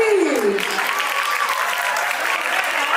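Loud, dense applause from a festival audience after a stage performance, sweeping through the hall with cheering voices and a faint whistle-like tone rising over the clapping.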